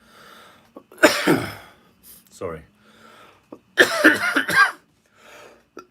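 Two loud, close bouts of rough coughing, each a cluster of harsh bursts, with a brief spoken word between them.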